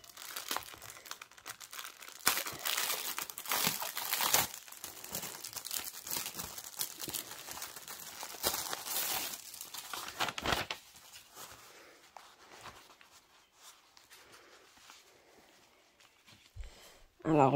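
Crinkly plastic packaging of a cross stitch kit is handled and torn open, a dense run of close rustling and crackling that thins out toward the end, with some talk around it.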